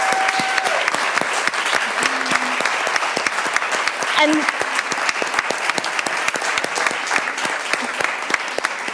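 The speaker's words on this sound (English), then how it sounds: "if all of you would join me with applause for Dr." Audience applause at an evening talk and essay prize event, a dense steady patter of many hands clapping for the full stretch, with a brief spoken word near the start.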